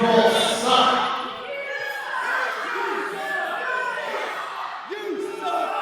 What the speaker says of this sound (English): Everywhere he goes, the crowd tells him that he sucks